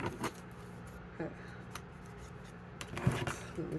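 Tarot cards being shuffled by hand, soft papery riffles and slides in short scattered bursts with quiet gaps between, close and fairly faint.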